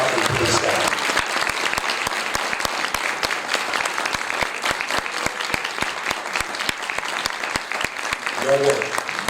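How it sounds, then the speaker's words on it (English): A graduation audience applauds the college faculty at a 2013 commencement ceremony: dense, steady clapping from a large crowd that fills the whole stretch, with a brief voice near the end. "I would ask you to join me in applauding the faculty responsible for what you see here on the stage."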